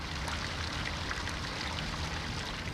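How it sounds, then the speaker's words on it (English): Water from park fountains runs in a steady, unbroken rush, with fine splashing and trickling throughout at a moderate level. "it's very pleasant to go and sit by the side of those fountains and just listen to the water running"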